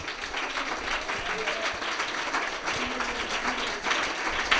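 Church congregation clapping hands together in a steady, dense wash of applause that fills the hall at a fairly loud level throughout.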